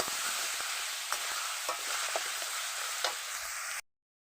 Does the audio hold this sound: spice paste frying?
yes